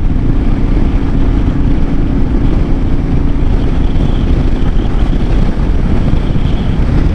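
Wind blowing on an open stretch near the coast, rushing steadily and loudly across the microphone from start to finish with a deep, continuous low roar and no voices.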